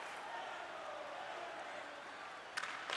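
Arena crowd from an NHL 25 video game Red Wings versus Rangers playoff matchup, a faint continuous murmur of cheering fans with a couple of brief louder swells near the end.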